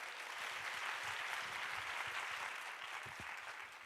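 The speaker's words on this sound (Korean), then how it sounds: "뜨겁게 박수로 모시겠습니다." An audience in a church gives sustained, dense applause to welcome a speaker to the front, a steady wash of clapping from a sizable crowd.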